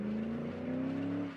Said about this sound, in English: The exhaust is somehow grinding on the ground.